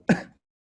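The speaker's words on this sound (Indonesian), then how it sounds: "Batuk kamu ya" A single short, rough cough, close by and moderately loud, followed by silence.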